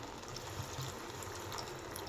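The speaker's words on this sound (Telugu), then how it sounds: "కొంచెం వాటర్ పోసుకుందామండి." Water is poured into a pot of mango and drumstick curry, making a soft continuous gushing splash, faint and steady throughout.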